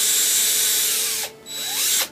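A power drill bores through the plastic fist of a 1/6-scale Hot Toys figure, giving a steady high-pitched whine for over a second that drops out, then spins up again and cuts off. Close and loud, with no talking.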